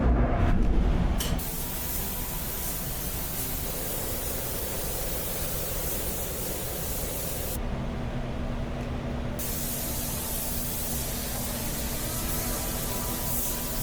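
A spray gun in a paint booth lays white base coat onto car parts with a steady hiss, briefly easing off midway before resuming, after a louder burst at the start.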